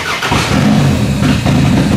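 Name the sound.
derby car engine starting and revving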